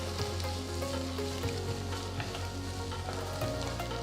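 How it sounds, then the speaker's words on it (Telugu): Chopped medium tomatoes and garlic fry in a hot pan, producing a continuous bubbling sizzle with a low steady hum beneath and occasional soft stirring scrapes. "ఇప్పుడు రఫ్గా కట్ చేసిన 2 మీడియం సైజ్ టొమాటోలు వేసి కలపాలి."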